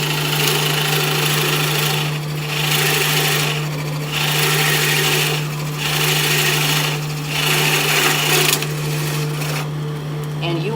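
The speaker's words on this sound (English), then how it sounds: "Start up the drill." A power drill bores through a wood block into a spoil board, running as a steady close whine with a constant hum, its grinding cutting in and out in regular surges.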